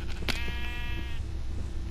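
A sheep in Minecraft on PlayStation 4 gives a single wavering bleat, close and fairly loud, over a steady game background with no talking.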